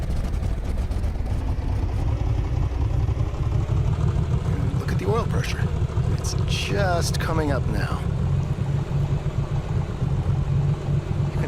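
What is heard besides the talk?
Cold aircraft engine running and warming up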